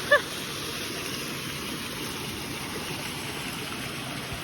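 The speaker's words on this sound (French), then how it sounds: "Là, vous avez déjà une mini cascade." A small waterfall on a river during a rainy hike gives a steady, broadband rushing roar, loud and unbroken throughout, with a brief faint click at the very start.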